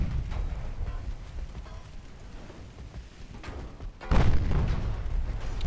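A torpedo explosion strikes a ship in the naval battle game Ultimate Admiral: Dreadnoughts, a sudden loud, deep boom erupting after a stretch of low rumbling gunfire, then a sustained roar.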